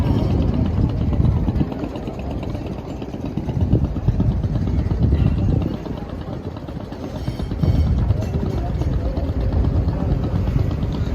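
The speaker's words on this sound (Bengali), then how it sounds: "আর ওইদিকে হচ্ছে বরিশাল থেকে 7টা লঞ্চ এখন এই জায়গায় চলে আসছে।" Passenger launch boats arriving from Barisal put out a loud, continuous low engine drone that swells and eases in slow waves throughout.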